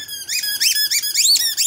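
A squeaky dog toy gives a rapid series of shrill, high squeaks in quick bursts, loud and close, with no talking.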